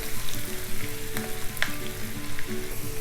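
Slit green chillies, onions and garlic fry in a pan for Telangana lamb chops, a close, steady sizzle with crackling pops and faint stirring throughout.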